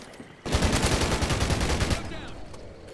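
Ripper SMG fire in Call of Duty Ghosts on Xbox One: one loud, sustained automatic burst of rapid shots lasting about a second and a half, then a fading tail.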